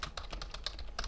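Quick, close typing on a computer keyboard as a new folder name is entered, a rapid run of about a dozen light, crisp key clicks in just over a second.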